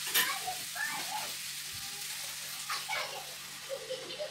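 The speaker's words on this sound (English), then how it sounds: "And now those onions are fried. Everything is coated in that lovely curry kind of flavors. I'm going to add some water." Water poured into a pan of fried onions coated in curry spices for a potato lentil stew, giving a steady hissing sizzle with splashy bursts that run at moderate loudness throughout, with no talking.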